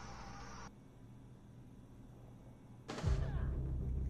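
Gunfire in a video game: a sudden loud blast near the end breaks a quiet stretch and leaves a heavy, rumbling low roar behind it.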